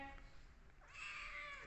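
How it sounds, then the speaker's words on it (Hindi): A house cat meows once, a loud, drawn-out, rising and falling call that begins partway through after a quiet stretch of room noise. "पूछी कैट कहाँ है? पूछी कैट को बुला के ला चल"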